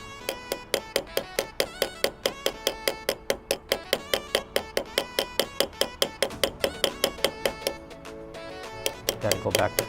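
A ball peen hammer peens the pin on a straight razor's scales in a rapid, even series of about thirty sharp metallic taps, close and crisp, slowing slightly near the end.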